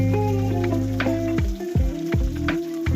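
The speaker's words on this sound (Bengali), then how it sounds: "এখানে দিয়ে দেবো আমি এবার কেটে রাখা টমেটোগুলো" Lightly browned potato pieces fry in hot oil with a steady close sizzle, then chopped tomatoes drop into the pan in several quick splashes that set off fresh bursts of crackling.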